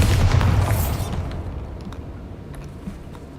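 A Bombarda explosion spell goes off in the game Hogwarts Legacy, a loud booming blast with a rumbling tail that fades over a few seconds.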